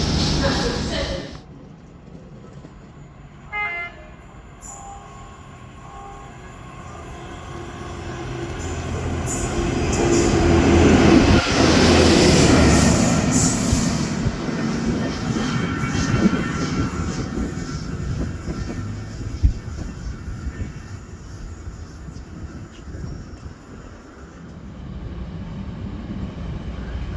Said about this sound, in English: This train has 2 coaches.